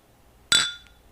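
Two glasses of mango mead clink together in a toast, a single bright, ringing chink close to the listener that decays quickly into quiet.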